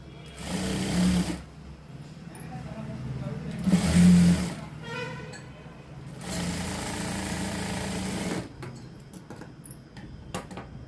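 Close sewing machine stitching a large blouse runs in three distinct bursts of steady rapid whirring, separated by pauses where handling noises and quiet talk are heard.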